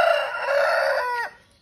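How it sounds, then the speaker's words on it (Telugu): A country rooster crows once, close and loud, a single drawn-out call that rises and then drops away at the end. "కూతకొచ్చింది కోడి."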